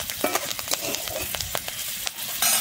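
Green chillies and cumin fry in oil in a pan for a Bengali spinach and mung dal, with a steady sizzle broken by sharp crackles and a few stirring scrapes, close and moderately loud.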